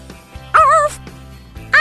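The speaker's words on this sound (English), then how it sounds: "All Cinnapop wanted to do was sing and howl" A cartoonish puppy voice in a children's video game lets out two rising, wavering howls, one longer and one cut short, over a steady low musical hum.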